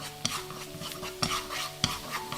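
Minced garlic stir-fries in a tablespoon of cooking oil, a quiet sizzle broken by three sharp spatula scrapes and taps against the pan at a slow, even pace.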